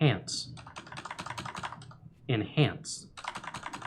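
Rapid keyboard typing clatters in short bursts in Disco Elysium, broken up by voices speaking between and over the keystrokes.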